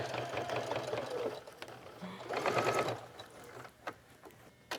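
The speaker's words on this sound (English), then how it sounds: "this sewing machine works great for going over all those bumps" A sewing machine runs in bursts of rapid mechanical stitching, pausing and restarting, with a louder stretch midway and a few clicks near the end.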